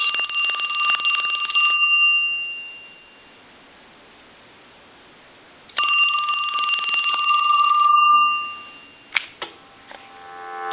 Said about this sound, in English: We can hold this and ring the phone.